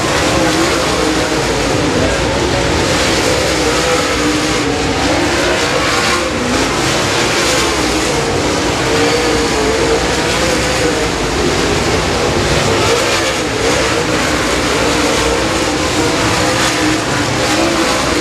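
Race cars roar around Boothill Speedway, a loud continuous engine drone with cars running side by side, steady and dense throughout.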